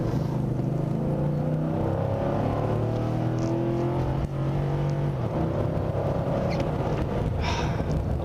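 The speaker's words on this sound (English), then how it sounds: "And hearing this engine purr." A Nissan Titan V8 pickup revs up from inside the cab, rising and falling engine tones climbing through several gears, loud and steady throughout with no talking.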